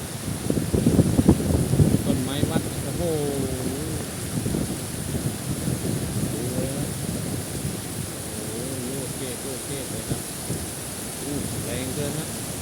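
Heavy rain and strong gusting wind batter trees during a storm in Nakhon Phanom province, Thailand, a dense continuous roar of rain and wind buffeting the microphone, with someone talking over it throughout.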